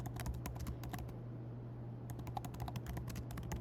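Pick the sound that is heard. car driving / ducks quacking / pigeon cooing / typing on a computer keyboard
typing on a computer keyboard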